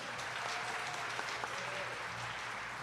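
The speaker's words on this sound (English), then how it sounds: "Give them a round of applause, please." An audience at a jigsaw puzzle competition claps for the judges, a soft, steady patter of applause heard from a distance with no clear voices.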